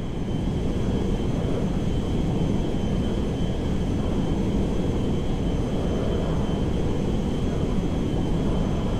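A cargo jet flying in GTA 5 gives off a steady, loud engine drone, a constant low roar with a faint high whine that holds unchanged throughout.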